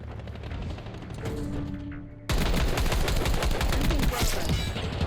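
A buffed Goblin MK2 rifle in Black Ops 6 Season 3 opens up in sustained rapid automatic fire, loud and close, cutting in abruptly after a quieter stretch of game ambience and continuing steadily to the end.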